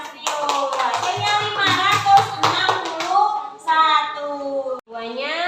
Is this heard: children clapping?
yes